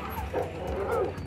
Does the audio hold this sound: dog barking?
yes